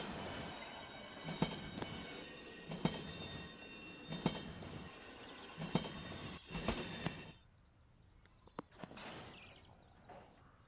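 A simulated freight train in a railroad sim game reverses toward a cut of tank cars, with rhythmic rolling clanks and wheel noise that fade to a quieter rumble near the end.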